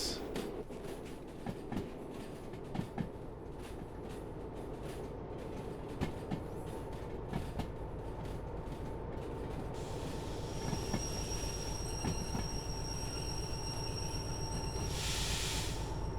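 A B99 locomotive rolls and coasts along the rails in the Derail Valley train game, making a steady rumble with wheel clatter and a high squeal of the wheels near the end.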